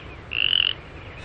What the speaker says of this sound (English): hello, little frog.